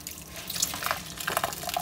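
Water pouring and splashing into a tub while dishes are washed aboard a boat, with close, uneven trickles and drips over a brief stretch.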